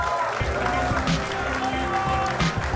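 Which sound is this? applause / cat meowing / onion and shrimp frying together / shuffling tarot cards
applause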